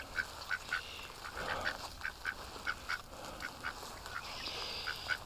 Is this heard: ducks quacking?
yes